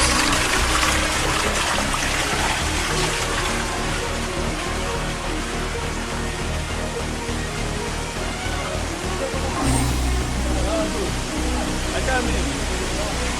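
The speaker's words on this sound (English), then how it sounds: "On arrival at the base of the waterfall" A waterfall and stream rush in Taita Taveta, Kenya, a dense, steady roar of falling water heard up close for the whole stretch, with a brief shift in tone near the end.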